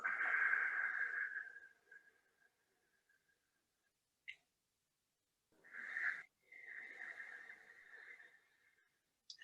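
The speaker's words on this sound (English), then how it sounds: "And we're breathing in and out with that gentle sound at the back of the throat." Slow, gentle breaths with a soft hiss at the back of the throat, as in calming breathing practice; a long exhale at the start, then quieter breaths after pauses, close and soft with no talking.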